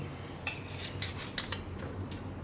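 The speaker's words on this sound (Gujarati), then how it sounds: "એને આ રીતે થાળીમાં કાઢવાના." Steamed spinach muthiya, a Gujarati snack, being set out one by one onto a metal plate, giving a few light clinks and scrapes spaced through a quiet kitchen.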